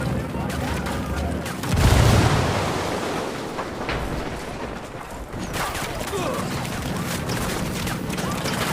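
A frag grenade goes off in Ghost Recon Wildlands, a heavy boom swelling near two seconds over steady gunfire and battle noise that carries on throughout, with voices in the mix.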